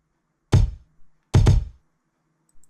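Kick drum layer of a hip hop beat played alone: a few deep, punchy thumps in a slow pattern, a single hit, a quick double hit, and softer ghost thumps trailing after each, with no voices.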